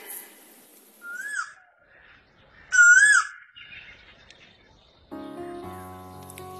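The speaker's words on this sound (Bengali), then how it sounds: "কুহু কুহু শোনা যায় কোকিলের কুহুতান," Asian koel calling in spring, heard as a few clear whistled rising calls, one near and loud around the middle, followed by a steady layer of other sounds or music toward the end.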